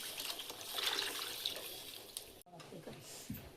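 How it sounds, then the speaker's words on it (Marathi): Water poured into ground masala inside a mixer jar, a continuous splashing hiss for a couple of seconds that cuts off abruptly, followed by quieter dribbles and slosh, close and alone. "तर हे बी पाणी टाकून घेते मी सगळं."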